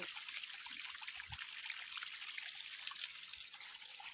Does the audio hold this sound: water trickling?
yes